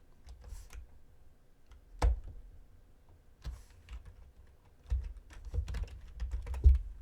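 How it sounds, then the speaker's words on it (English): Typing on a computer keyboard while coding in MakeCode Arcade, heard as soft, irregular clicks and taps close by, with a few sharper louder keystrokes scattered throughout. "Typing without looking at the keyboard."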